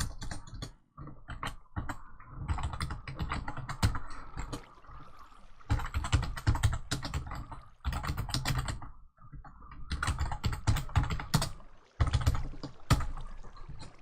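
Fingers clatter on a computer keyboard in rapid, close bursts of typing, broken by short pauses between runs of keystrokes, with no voices heard.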